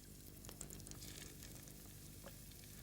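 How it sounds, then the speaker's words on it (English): Fish fillets fry in a pan with garlic, giving a steady, fairly faint sizzle close by with a few soft crackles and no speech. "then start cooking the seafood one at a time, starting with the fish fillets"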